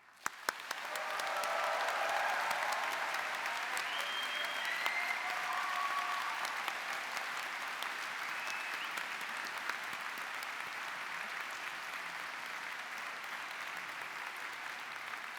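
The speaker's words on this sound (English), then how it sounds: "I am sure you'd like to join me in giving them a warm round of applause" Sustained applause from a large crowd at a Central Saint Martins university graduation ceremony, steady clapping that swells early and then holds at an even level throughout, with no talking.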